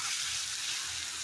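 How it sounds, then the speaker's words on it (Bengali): Onions fry in hot oil with a pinch of turmeric for a rohu fish kalia, a dense continuous sizzle heard close and alone for a brief moment. "পেঁয়াজগুলোকে ভেজে নেব।"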